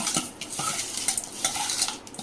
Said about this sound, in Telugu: ఒక స్పూన్ ఏమో కల్లుప్పు వేసేసుకొని ఇలా కడగండి